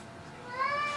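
A cat in a garage workshop lets out a single short, rising meow of moderate loudness over quiet background hum.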